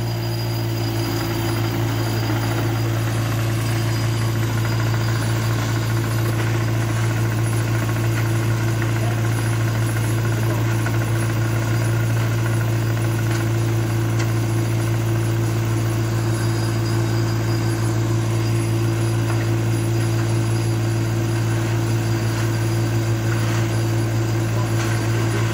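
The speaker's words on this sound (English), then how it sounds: "but this is that automatic screeder." A screeder's engine runs nearby, a steady loud drone with a strong low hum that holds unchanged throughout and has no talk over it.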